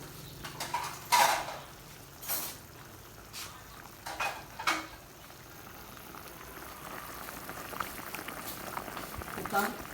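A pot of northern Thai Kaeng Puk Kad mustard-green curry simmering, soft continuous bubbling with scattered clinks and knocks, fairly quiet, with people talking over it at times.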